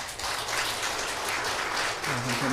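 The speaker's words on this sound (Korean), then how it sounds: "우리 박수 부탁드립니다" A congregation at a church revival meeting applauds the elders who volunteered, continuous clapping with a brief low voice or hum near the end.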